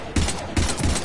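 Gunfire in the Mass Effect 3 video game, a loud, close burst of rapid automatic shots that pauses briefly and then resumes within about a second.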